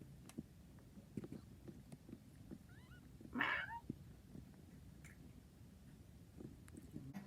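A kitten gives one faint, short meow in a quiet room, surrounded by soft rustling and low background noise.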